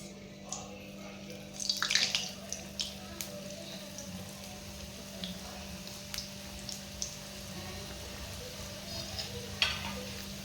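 A second batch of wheat flour modaks deep frying in hot oil: a soft, continuous hiss broken by scattered small crackles and pops, with a slightly busier spell of bubbling near the start.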